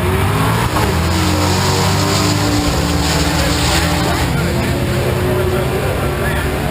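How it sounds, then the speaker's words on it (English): A Ford drag race car thunders past at about 165 mph at Bradenton Raceway, Florida, a loud continuous engine roar filling the whole stretch with an announcer talking over it. "Tony Whetstone comes thundering by 8:32 to the 165 miles an hour"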